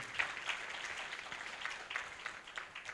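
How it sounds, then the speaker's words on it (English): A conference audience at a biomedical and biotechnology event applauds a PhD student, a faint, distant wash of steady clapping that runs unbroken for the whole stretch. "So let's clap for her."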